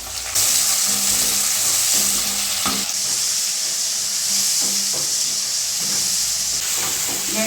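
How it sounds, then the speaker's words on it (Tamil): Onion, garlic, curry leaves and tomato sauté in a pan for vatha kulambu, making a steady loud sizzle and hiss with occasional stirring scrapes and clinks against the pan. "இப்போது கருவேப்பிலையும் கூடவே தக்காளியும் சேர்த்து நல்லா வதக்கிக்கலாம்."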